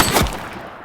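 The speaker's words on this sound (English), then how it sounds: "She's shooting!" Gunfire in The Precinct police video game: a few sharp shots in quick succession at the start, then a low lingering tail, with another abrupt blast right at the end.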